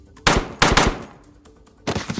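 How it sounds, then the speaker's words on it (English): Gunshots in a small room: two sharp, loud reports in quick succession, then a third shot after a pause, close and echoing. "The gunshots rang out"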